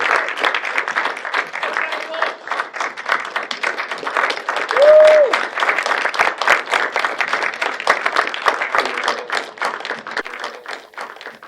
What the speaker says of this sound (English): Another round of applause for Cod and Chips.